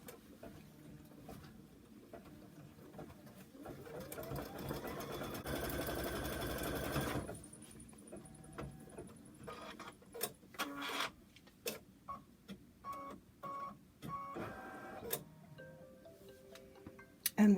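Embroidery sewing machine stitching a Kimberbell design, a quiet close rhythmic whir at first, then a louder steady burst of stitching, followed by scattered ticks and clicks.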